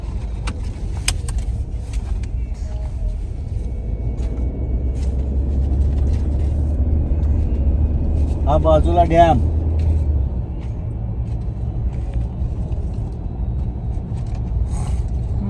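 A car drives along a road in the rain past a dam, with a low steady engine and road rumble inside the cabin. People talk over it, and a few small clicks and rattles come through.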